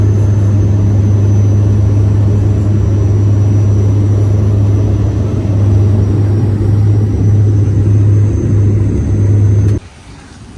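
Propeller aircraft engines drone in flight as heard from inside the cabin, a loud, steady low hum with a strong constant tone that cuts off abruptly near the end.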